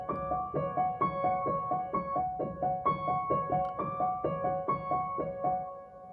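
Piano plays two opening chords as a flowing arpeggiated pattern of repeating notes, soft and close, with a steady rhythmic pulse and no voices.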